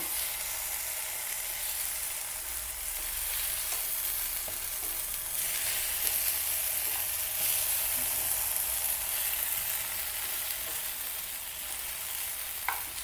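Brinjal (eggplant) slices fry in oil in a pan, giving a steady, close sizzle and crackle that holds at even loudness throughout, with no talking.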